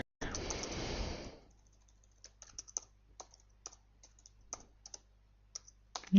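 Computer keyboard typing while setting up a Google Calendar event: a short rush of noise, then a scattered series of light, quick key clicks, close and faint, with no talk.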